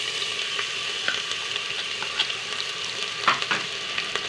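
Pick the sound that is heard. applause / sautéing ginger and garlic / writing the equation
sautéing ginger and garlic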